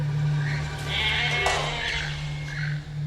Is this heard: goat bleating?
yes